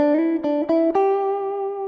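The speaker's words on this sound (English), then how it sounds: "Now I'm going to use the pointy end of the pick." A single guitar string plucked with the pointy end of a pick rings out, its sharp pick attacks landing in quick succession as the note slides slightly upward and sustains clearly.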